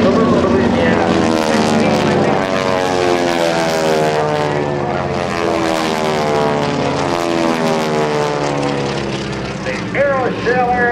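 Propeller aircraft of the Aeroshell Aerobatic Team fly over an airshow at Dover AFB in 2009, a loud sustained droning roar of piston engines with shifting pitch as they pass, while an announcer talks over it.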